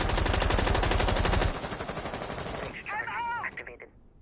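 A light machine gun in a competitive video game match sprays a long rapid burst of bullets into walls, loud and continuous, then breaks off into scattered shots and game effects as it fades.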